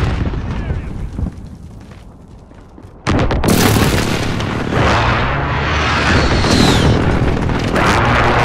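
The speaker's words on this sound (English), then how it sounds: "Friendly precision airstrike on the way." Precision airstrike explosions in Call of Duty: Modern Warfare hit after a quieter stretch, a sudden loud roaring blast that keeps rumbling and crackling heavily through the rest, with game voices in the mix.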